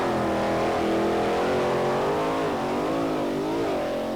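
A nitro-powered wheelie car accelerating hard down the Hockenheim strip, a loud sustained engine roar with a wavering pitch and no gaps, close and dominant throughout.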